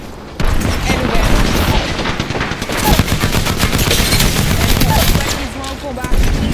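Dense machine-gun fire from an enemy squad in a video game rattles almost nonstop, loud and close, with bursts overlapping and a voice talking underneath.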